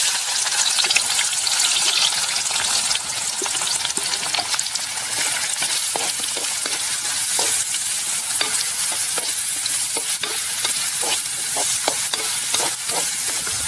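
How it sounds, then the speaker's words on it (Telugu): Onions frying in hot oil with whole cardamom and cinnamon pieces for a spicy Telangana-style mutton curry: a steady, loud sizzle throughout, broken by frequent sharp clicks and scrapes of a spoon stirring the pan. "ఇవన్నీ కాగిన నూనెలో వేసుకుందాం. ఇప్పుడు ఉల్లిగడ్డలు వేసుకుందాం."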